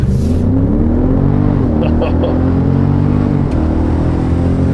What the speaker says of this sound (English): This time I'm just going to floor it a little bit, give it a little bit of torque, and there it goes.